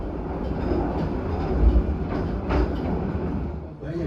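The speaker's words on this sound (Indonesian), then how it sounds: "Kereta api Argo Wilis mulai meninggalkan kota Bandung yang diselimuti kabut pagi" The Argo Wilis passenger train pulls out of Bandung on a foggy morning, a steady broadband rumble of rolling wheels and carriage noise heard from on board, continuous and fairly loud with no voices.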